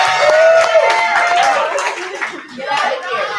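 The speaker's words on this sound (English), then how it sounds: "Can we all give Nas a hand of applause?" An audience at a 2021 graduation ceremony in Atlanta applauds for a student, a dense spread of clapping that swells and fades over a few seconds with voices mixed in.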